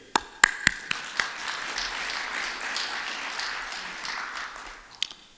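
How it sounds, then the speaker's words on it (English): A few sharp, separate claps open into broad, sustained applause from an audience at an international academic conference opening, the crowd clapping evenly before a last couple of distinct claps near the end. "please a big round of applause for all of us here"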